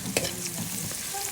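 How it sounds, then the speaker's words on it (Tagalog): Garlic, onion and ginger sauté in a hot pan with a steady close sizzle, a sharp stirring scrape near the start and a continuous frying hiss throughout. "Nagisa ko na yung bawang, sibuyas, luya guys."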